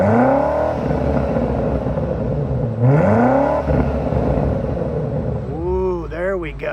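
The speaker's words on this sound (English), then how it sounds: "Yeah, let's do another rev time." A 2026 BMW X6M's exhaust revs up in three loud bursts, each a rising then falling engine sweep with crackling gargle, while low background talk runs beneath.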